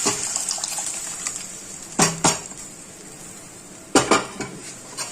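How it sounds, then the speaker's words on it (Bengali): A fried spice tempering with a splash of water is poured into a khichuri pot: two bursts of clattering metal and splashing pouring stand out over a constant background sizzle, near and moderately loud. "এবার এটা খিচুড়ি হাঁড়ির মধ্যে ঢেলে দেব"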